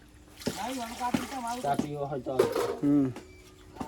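Pots and utensils clink and clatter in a few sharp knocks while tea is being made, close by and mostly underneath steady voices talking over them.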